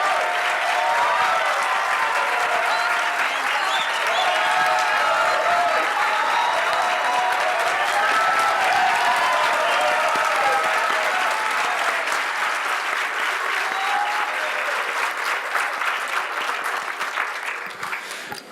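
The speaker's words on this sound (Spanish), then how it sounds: "Otro aplauso." Sustained audience applause at a book presentation during an international book fair, dense and loud from start to finish before tapering off at the end.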